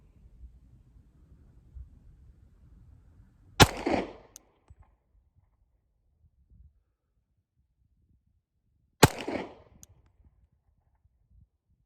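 Pistol shots on a shooting range, two sharp loud cracks about five seconds apart, each followed by a brief echoing tail, in otherwise quiet surroundings.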